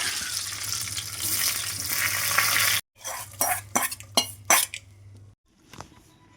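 Mustard seeds and fenugreek crackle and sizzle in hot oil for a ground mango curry, a loud steady frying hiss followed by several sharp clanks and scrapes of a pan and utensil.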